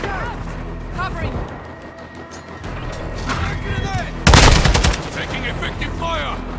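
Gunfire in the video game Modern Warfare 2 during a Hardpoint match on Valderas Museum with the Kastov 762: a loud burst of rapid shots midway over busy game noise, with voice callouts heard throughout.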